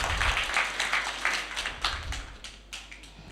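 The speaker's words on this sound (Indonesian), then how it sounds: "Kasih tepuk tangan dulu yang meriah lagi buat Mbak" Clapping from an audience for a woman who has just read her poem at a poetry anthology reading, a burst of hand claps that thins out and fades toward the end.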